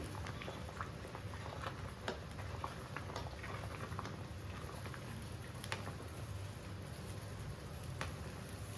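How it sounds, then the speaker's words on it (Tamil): Soft, continuous bubbling of sugar syrup boiling in a pan, low and even with faint pops scattered throughout. "கொதிக்கிறது பாருங்க அப்படியே கொதிக்க விடுங்க"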